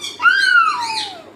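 A single shrill parrot squawk, harsh and drawn out, rising then sliding down, loud and close.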